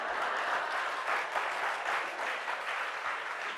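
A large audience at a morning satsang bursts into sustained, dense applause, many hands clapping steadily together at a fairly close, even level for the whole stretch.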